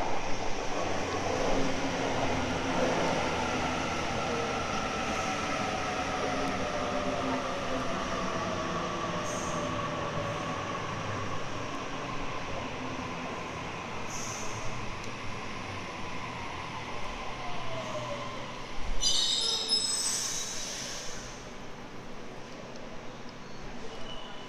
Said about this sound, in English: Maybe I'll film the departure of the train on my honor seat again